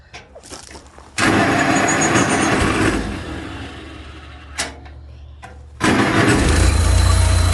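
A Farmall Cub tractor engine cranks briefly, then catches and runs loudly before dying out, cranks again after a short pause, and roars back to life at close range.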